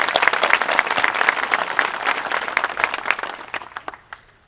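Audience applause at a college Veterans Day ceremony, many hands clapping in a lively, uneven burst that gradually thins out to a few last claps before stopping.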